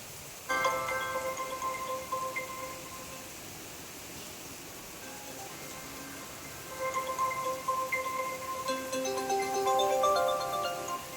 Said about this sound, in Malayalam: ആ നിമിഷം തന്നെ ഉസ്താദ് അതാ സമീറയുടെ ഫോണിലേക്ക് വിളിക്കുന്നു